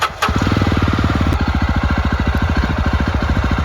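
A Yezdi Roadster motorcycle engine catches after a brief starter burst, then settles into a loud, close, steady idle with an even rapid thumping pulse.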